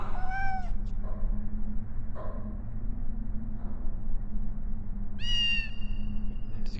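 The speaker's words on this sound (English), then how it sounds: "There's a kitten." A kitten in the Harry Potter PS1 video game gives several short, high meows, a couple near the start and a brighter one later, over a low steady game background.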